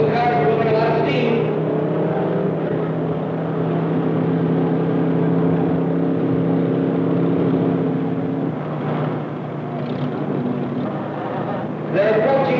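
Two 1950s T-Bird hot rods race with loud, sustained engine drone and shifting tones that build and then ease off. A voice commentates over the engines.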